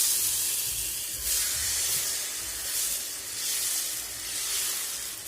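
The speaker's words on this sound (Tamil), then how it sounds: "தோசைக்கல் நல்லா சூடாயிடுச்சு. ஒரு கரண்டி மாவு எடுத்து இதில் ஊற்றிடுங்க." Adai dosa batter spread on a hot dosa griddle, sizzling and hissing close up in a continuous wash with gentle swells, without any talking.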